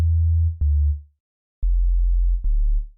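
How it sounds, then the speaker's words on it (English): A pure sine wave from the Operator synthesizer plays as a low, steady sub-bass tone. It sounds in two sustained notes separated by a brief silence, with soft clicks where the notes start and stop. There is no other sound. "it's just going to sound like a sine wave, obviously."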